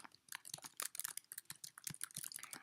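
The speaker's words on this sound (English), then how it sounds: "I'm sorry if these keys are really loud." Rapid clicking of keys on a computer keyboard during a typing test, dense irregular clatter of sharp taps, close and fairly loud, with no talking.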